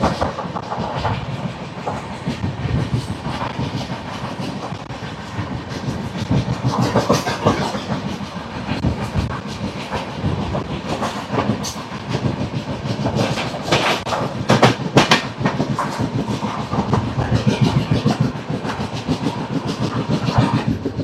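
Janmabhoomi Superfast Express 12805, Visakhapatnam to Lingampalli, rolls steadily along the rails near Secunderabad with a continuous clickety-clack of wagons and a broad rumbling roar, loud and close throughout.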